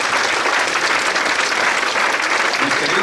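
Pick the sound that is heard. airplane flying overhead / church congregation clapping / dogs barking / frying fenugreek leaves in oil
church congregation clapping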